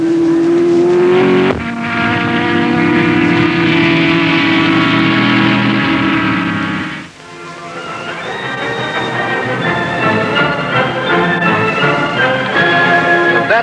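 Racing cars roar past at a British Racing and Sports Car Club meeting, loud engines sweeping by one after another with a brief dip in noise before more cars charge through, no voices.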